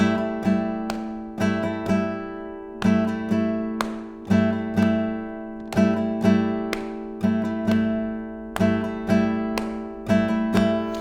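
An acoustic guitar strums open strings in a steady, even rhythm, each strum ringing briefly before the next, clear and close.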